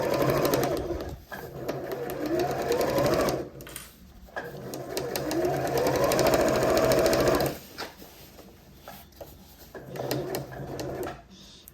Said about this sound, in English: And I'm just going to sew past it.